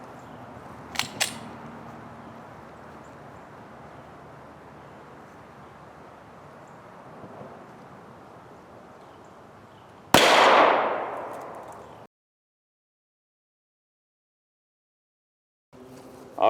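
A single sharp, loud 45 ACP pistol shot from Winchester White Box 230 grain full metal jacket ammunition, fired at an aluminum target outdoors, cracks after a stretch of quiet ambience and rings briefly before cutting off.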